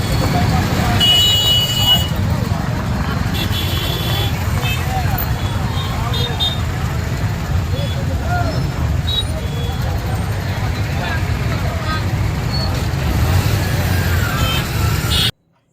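Heavy city road traffic heard during a food delivery ride, with a continuous loud rumble of cars, buses and trucks, an early horn toot, and background voices mixed in throughout.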